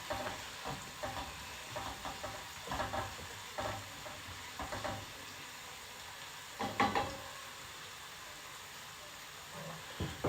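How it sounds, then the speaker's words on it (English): Onions fry in a pan with a quiet steady sizzle, broken by intermittent scraping and stirring strokes at irregular intervals, close up and with no talk. "You're just frying onions."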